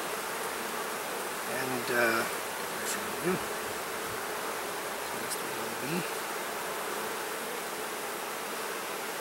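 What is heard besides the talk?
honey bees buzzing around an open hive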